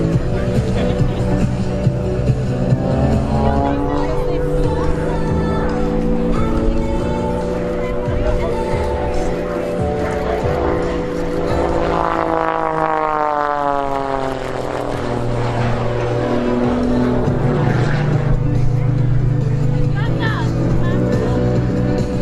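An Extra 300 aerobatic plane performs at the 2023 Boundary Bay Airshow, its propeller engine droning loudly with rising and falling pitch as it rolls and tumbles, while an announcer talks over it throughout.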